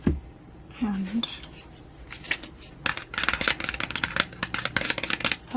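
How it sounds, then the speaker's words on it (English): Tarot cards from an Archetypes deck shuffled up close, a soft riffling and flicking texture that thickens into rapid fluttering clicks, with a brief quiet voice at the start. "I'm also going to shuffle these cards and pull 3 of these blessings"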